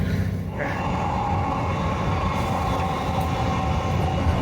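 A passenger train runs steadily on rail near Todmorden, its dense rumble and rolling wheel noise loud and continuous throughout, with no voices over it.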